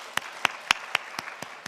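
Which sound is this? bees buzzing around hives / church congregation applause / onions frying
church congregation applause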